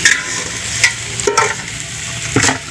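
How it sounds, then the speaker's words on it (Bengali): Onion, garlic and chili fry in a pan for a picnic meat curry, a short steady sizzle broken by a few sharp clinks of stirring, close by with no voices. "পেঁয়াজ রসুন লঙ্কা সব ভাজা হচ্ছে"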